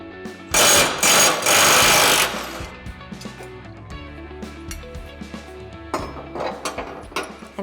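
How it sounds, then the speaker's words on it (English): An impact wrench with a 15/16 socket removing the discharge-side blade on an Ariens mower, firing a loud, close rattling hammer burst of about two seconds, followed by quieter clinks and handling of metal parts and another brief faint rattle. "we're going to take our 15/16 socket and our impact and remove our discharge side blade"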